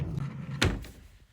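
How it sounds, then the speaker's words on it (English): A sock drawer slides shut with one solid thud, a single close knock followed by a brief fading rattle in a quiet room. "In the drawer they go."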